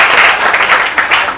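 Crowd at a Holi Milan festival gathering claps briefly, a short, loud burst of dense applause.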